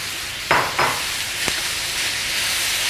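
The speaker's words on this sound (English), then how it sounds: "We'll give it a stir" Pumpkin with salt and spices for Kaddu Simla Mirch ki Sabzi is stirred in a pan, giving three brief scraping strokes over a steady cooking hiss.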